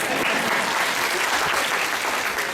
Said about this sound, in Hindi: खुद के लिए ताली बजाओ।